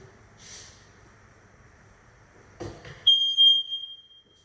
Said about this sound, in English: first smoke alarms in the kitchen, fully functional and working